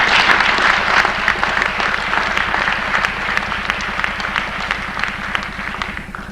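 A school sports awards crowd applauds the girls' JV basketball team and coach: loud, sustained clapping filling the room, with a steady low hum running underneath throughout.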